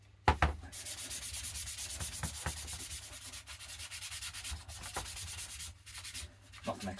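Airsoft gun parts get scrubbed with a scouring pad in a continuous, close abrasive rasp, with a few brief knocks at the start and near the end.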